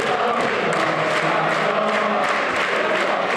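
Dense crowd noise at a 2016 university varsity darts event in fancy dress, a steady wash of many voices and chatter holding loud and constant throughout with no single voice standing out.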